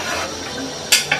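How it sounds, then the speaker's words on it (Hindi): A metal spoon scrapes and clinks against the pot while stirring pulao rice, with a faint background hum and two sharp scraping strokes near the end. "ये हल्का हल्का चम्मच चला लें,"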